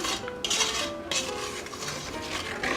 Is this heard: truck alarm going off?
no